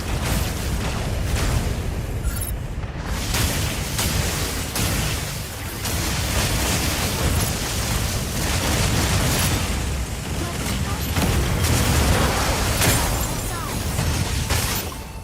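Dense, continuous booming blasts from a ship firing on a mech in the Mecha BREAK video game, loud and sustained through the whole stretch with overlapping explosive bursts.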